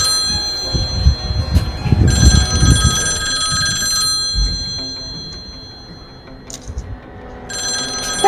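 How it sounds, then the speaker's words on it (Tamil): An old-style landline telephone bell rings in repeated bursts over faint thumps and movement, then briefly again at the end. "அம்மா லேண்ட்லைன் போன் ரிங் மாதிரி கேக்குதுமா"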